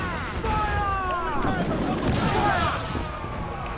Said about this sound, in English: Okay, their mortars are coming in.